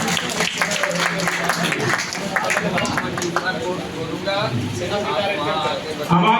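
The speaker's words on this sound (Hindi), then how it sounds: "जोरदार तालियों से हम लोग स्वागत करें।" Audience applause welcoming an honoured guest at a ceremony, steady clapping throughout while an announcer keeps speaking over it.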